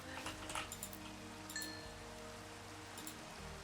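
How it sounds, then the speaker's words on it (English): Soft, steady rain in a Minecraft game, a faint continuous patter with a low droning background. "I just feel like it's really peaceful with the rain."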